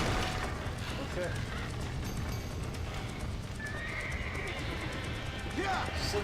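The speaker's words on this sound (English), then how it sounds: "Get that horse back! Get it moving!" Horse sounds in the Red Dead Redemption video game: a whinny and hoofbeats over a continuous rumbling game soundscape, with an occasional voice in the mix.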